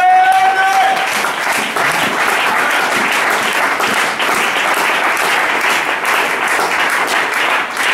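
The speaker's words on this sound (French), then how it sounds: "Est-ce qu'on peut acclamer pour ma mère?" A church audience applauds and cheers for the preacher's mother, steady loud clapping from a large crowd throughout, with a brief voice at the very start.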